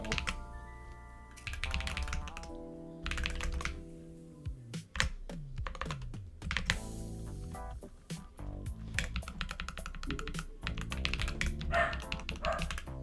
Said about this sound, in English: my dog is going crazy